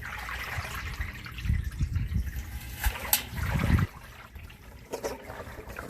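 Water sloshing inside the tub of a Samsung washing machine as it is carried, in soft, irregular gurgling bursts with handling bumps, fairly faint and close.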